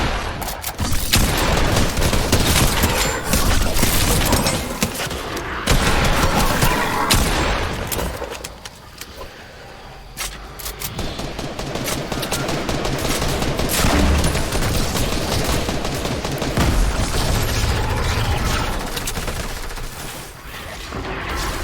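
Turret gunfire in the Fortnite video game, a dense, loud, continuous fusillade of rapid shots and booms that barely lets up for over twenty seconds, with no talk over it.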